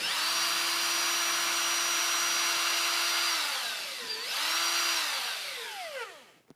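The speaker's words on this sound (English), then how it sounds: "This is where a power drill makes things a little bit easier." Cordless power drill backing screws out of a Lithonia fluorescent light fixture on a garage or shop ceiling: a loud, steady whine held for several seconds, a brief pause, then a second run that winds down.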